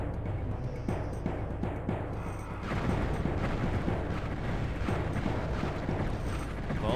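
Enemies in the video game Heretic fire in a dense, continuous stream of game gunfire and blasts, with rapid crackling shots and booming impacts that grow heavier partway through.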